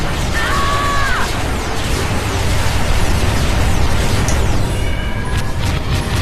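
A Kane-class cruiser fires all its guns in the space combat game Freespace 2, a loud, continuous roar of blasts and bursts with high whooshing streaks layered over a dense rumbling bed.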